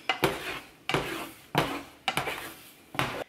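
A pan of scrambled egg whites is stirred and scraped in five quick, rhythmic strokes about half a second apart, each a close, clattering scrape of utensil against metal.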